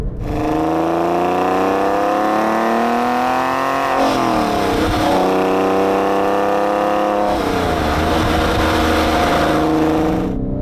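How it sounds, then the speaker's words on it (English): A modified Porsche 996.2 GT3 with intake and exhaust changes revs out hard on an open road, its engine note climbing steadily through the gears with sharp shifts around four and seven seconds, loud and close throughout. "This car loves to rev out."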